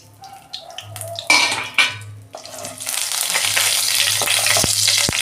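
White mustard seeds, a bay leaf and cardamom hit hot oil in a kadai, giving a loud, steady sizzle that swells and holds after a few early clinks and clatters of utensils, with no talking.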